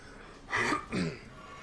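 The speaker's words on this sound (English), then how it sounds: "pardon for any hemming, hawing, and sniffing this time through" A person with a head cold clears their throat in two short, rough bursts close to the microphone, with quiet room tone before and after.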